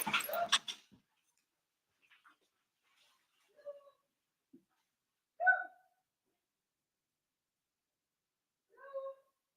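A dog whimpers and whines in a few thin, high cries spaced out over several seconds, faint and distant in a quiet room, after a brief burst of voices at the start.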